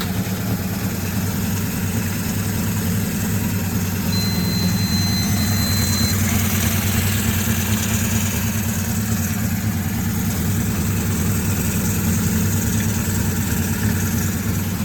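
A barn-find Suzuki GS550 motorcycle engine idles in a steady, continuous low-pitched throb with a faint hum, running slightly lean, close and constant for the whole stretch without talk.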